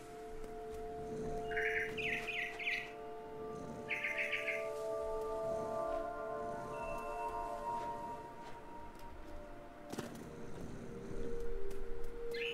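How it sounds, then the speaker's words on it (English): Bright, repeated barn swallow chirps from the video game What Remains of Edith Finch, in short bursts over a steady background hum and sustained tones, moderately close. "Then I heard chirping outside my window. It was a barn swallow going back to her nest."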